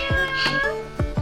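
A cat meows a few times in short, close calls, over a steady hum.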